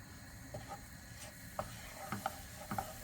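Flour roasting in butter in a pan, a quiet sizzle under a few soft scraping stirs and light clicks of the utensil against the pan.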